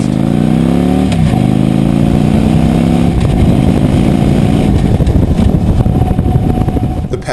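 Victory Hammer motorcycle with a 106 cubic inch (1731cc) engine launching hard, loud rising engine note climbing through gears with shifts, rough roar close up.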